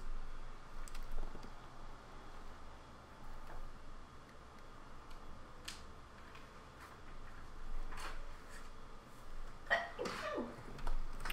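One sharp sneeze from a person near the microphone during a pixel art drawing livestream, rising briefly out of quiet room noise with faint clicking in the background.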